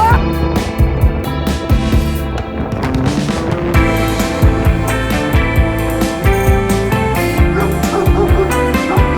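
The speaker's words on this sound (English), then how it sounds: "I will try to film you this dog attack." Dogs barking and yipping at cyclists on a tandem bicycle in Peru, repeated close barks under loud music.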